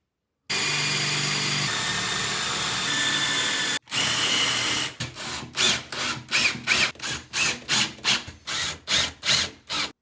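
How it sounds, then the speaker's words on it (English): Power drill fitted with a tile and stone bit boring into tile during a toilet installation, a steady whine at first, then a quick series of short rhythmic drilling bursts, close and loud. "if you're drilling tile, you also want to use a tile and stone bit."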